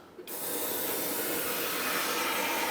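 Cavity wax hisses steadily from a spray wand into the bodywork of a Frogeye Sprite, starting abruptly after a brief quiet moment and continuing as a loud, close, unbroken spray.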